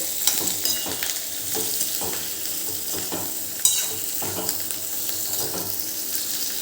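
Stuffed okra (bharela bhinda) frying in hot oil with a pinch of asafoetida in a pan, stirred with a spatula in repeated scraping strokes over a steady sizzle, close and fairly loud, with one sharper clank partway through.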